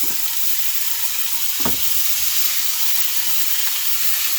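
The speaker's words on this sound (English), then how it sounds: "And so we're going to start cooking our meat," About 1.25 pounds of minced beef frying in a single pot for chili, giving a steady, loud sizzle and hiss throughout, with a faint scrape or stir partway through.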